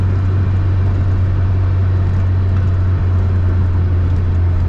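A 1965 Volkswagen Beetle, lowered very close to the ground, drives on rough Ohio roads with a steady, loud, droning engine hum and road rumble that continues without a break and without any talk.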